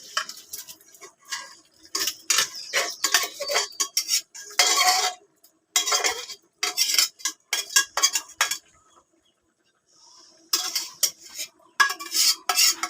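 Cooked beef for biryani being stirred in a metal pot: bursts of clinking and scraping utensil strokes in an uneven rhythm, close and fairly clear, with a brief quiet gap before the stirring resumes.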